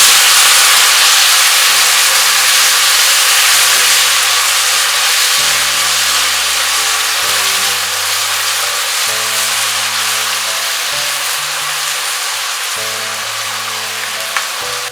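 Finely chopped medium onion sizzles and hisses steadily in a hot pan of oil while cooking palak paneer, a continuous close frying sound with soft background music and no talking.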